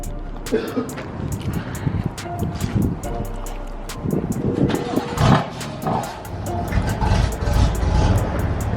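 A cold start of either a BMW M4 or a Scatpack Dodge Challenger 392 at a drag race, heard as a steady, rough low engine rumble with wind noise, while people talk over it.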